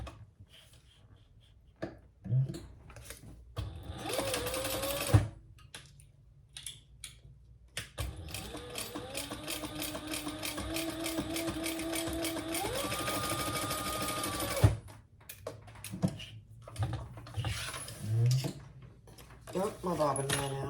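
A sewing machine stitches a seam allowance on the lining of a sling crossbody bag, with short bursts of stitching followed by a long continuous run and then pauses with handling clicks, close and fairly quiet.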